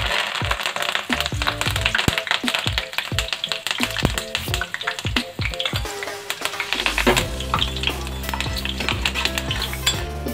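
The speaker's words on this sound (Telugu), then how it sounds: "పల్లీలు వేగిపోయినాయి తీసేద్దాము" Peanuts fry in hot oil in a pan, a sizzle under repeated metallic scraping and clinking as a spoon stirs them, steady and close with no talk.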